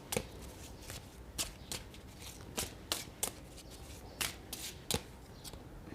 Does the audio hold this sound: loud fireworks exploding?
no